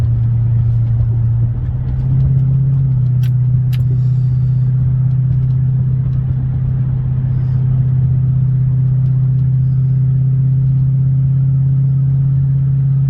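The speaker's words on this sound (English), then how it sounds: "Car's running great." A car fitted with coilovers drives along a road, its steady engine hum and low tyre rumble continuous and close throughout, with a couple of faint ticks but no voices.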